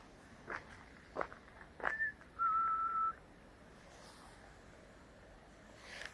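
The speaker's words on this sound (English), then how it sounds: "they say you shouldn't whistle in the forest." A person whistles a few short sustained notes in a quiet forest, preceded by several soft footsteps on the ground and followed by faint outdoor ambience.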